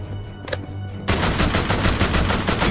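Rapid, loud gunfire from The Walking Dead Destinies video game, a dense burst of repeated shots starting abruptly after a quieter moment and continuing steadily to the end.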